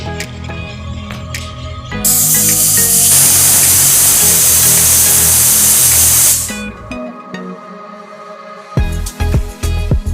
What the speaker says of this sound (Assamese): মই প্ৰেছাৰ কুকাৰত দি দিলোঁ। এতিয়া 4-5টা হুইচেল আহিবলৈ দিম।